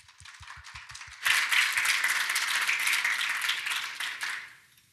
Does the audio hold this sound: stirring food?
no